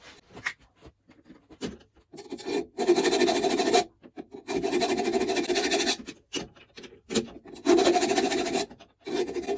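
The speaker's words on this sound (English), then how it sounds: "Run a file in there, get rid of that burr." Metal file rasping away a burr on a drill press part, in repeated strokes of a few seconds each, close and fairly loud, separated by short pauses.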